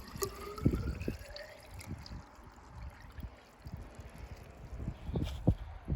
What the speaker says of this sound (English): Go ahead and dump the water in.